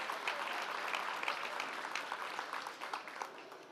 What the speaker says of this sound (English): Can I please get a big applause for yourself, for the audience of Take Off Istanbul International Startup Summit?